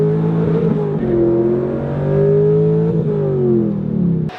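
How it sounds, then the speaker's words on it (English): A Chevrolet C5 Corvette Z06 on city streets, its V8 rising and falling in pitch through a few accelerations and gear changes, loud and close from inside the car with no talking. "let's see what the Corvette is like driving on city streets"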